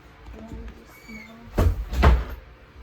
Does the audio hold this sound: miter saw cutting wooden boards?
no